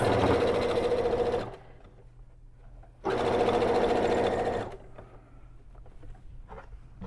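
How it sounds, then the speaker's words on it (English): Sewing machine stitching down a seam on a one-piece unlined tote bag: two loud, close bursts of fast steady mechanical whirring, each lasting over a second, separated by a quieter pause with faint handling sounds. "put it under the foot plate, and we are gonna stitch that seam down"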